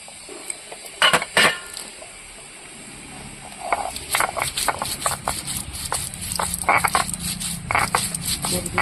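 Whole coriander and cumin are ground on a grinding stone, giving repeated rough scraping and knocking strokes in an irregular rhythm, close and moderately loud, with occasional sharp clinks.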